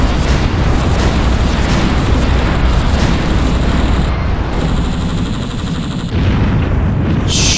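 Loud, sustained barrage of gunfire and explosions as a cannon is destroyed in the game Project Nomads, dense continuous booms and shots with no speech.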